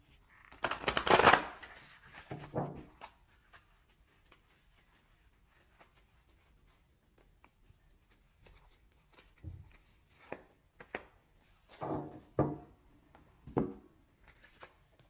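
Oracle cards being shuffled close up, a loud riffle early on, then quieter rustles and several shorter shuffling bursts toward the end.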